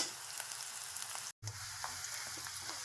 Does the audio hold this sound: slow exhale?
no